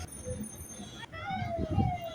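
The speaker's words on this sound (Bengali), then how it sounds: "এত ভিড়ের মধ্যে একটা অ্যাম্বুলেন্সও আটকে গেছে" A wailing ambulance siren rises out of a noisy crowd, heard through the chatter of nearby voices and street bustle.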